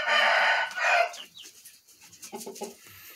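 Chickens, including Thai chicks, clucking and calling loudly and close up, with a dense burst of squawking followed by shorter clucks.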